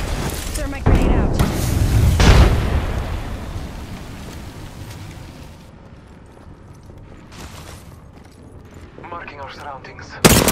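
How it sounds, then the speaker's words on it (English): Grenade blast and gunfire in the battle royale game Apex Legends: loud booming bursts and cracking shots up front, fading into a quieter rumbling stretch before another sharp hit at the end. "Throw my grenade out."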